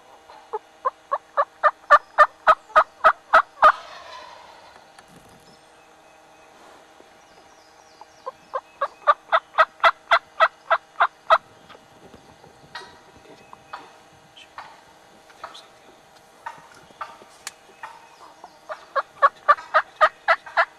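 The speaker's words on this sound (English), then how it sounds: "This gobbler is starting to head in our direction." A wild turkey calls during a spring hunt, sending out clear series of sharp, evenly spaced notes that repeat several times with quiet gaps between them, set against a still outdoor background.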